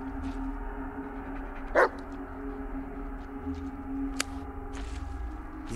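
In the video game Blair Witch, a dog gives a single short bark partway through, with a quieter yip later, over low ambient game drone.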